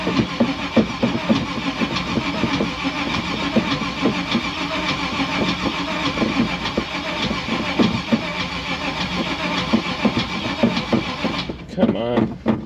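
A classic car engine cranks on a cold start: a steady, close, rhythmic chugging of the starter turning over, continuing for about eleven seconds before it breaks off into a few uneven sputters.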